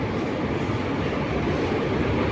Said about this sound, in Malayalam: ട്രെയിൻ അടുത്തെത്തി